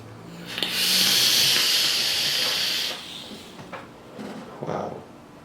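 Mech squonk vape with an RDA coil firing, producing a loud, close, broad hiss and sizzle lasting about two seconds, followed by softer brief bursts and breathy puffs.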